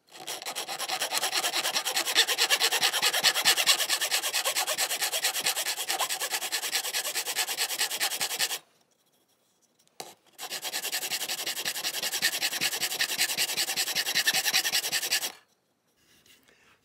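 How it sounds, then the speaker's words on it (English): Coarse file working a swivel breech rifle kit part in two long runs of fast, steady rasping strokes separated by a short pause, close and clear with no talking. "Back to our course file."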